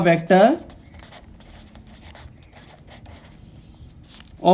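A pen or marker scratches across a board in a lecture on vectors and rectangular coordinates, with steady, faint strokes running for several seconds after a short burst of someone talking at the start and just before the end.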